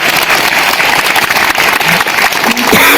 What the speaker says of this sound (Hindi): इस खुशी में जोर से ताली बजाएं